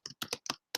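Several crisp separate keystrokes on a computer keyboard while entering R code, four or five close clicks in an uneven rhythm with short silences between them.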